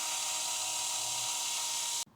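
A cobalt step drill bit, TiAlN-coated M35 steel, drills through material with a steady, loud high-pitched whine that cuts off abruptly at the end.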